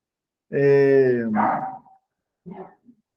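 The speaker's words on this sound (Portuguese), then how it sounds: "o cachorrinho está querendo participar da palestra aqui" A small dog at an indoor talk lets out one drawn-out, loud whining bark, then a couple of fainter, shorter yips a second later, with no speech over them.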